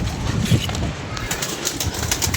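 Several pigeons on a rooftop loft, with soft cooing and some wing flutter in a steady, busy backdrop of birds, fairly close.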